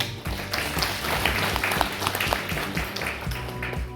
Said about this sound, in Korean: 이렇게 축하해 주셔서 박수 한번 보내주십니다.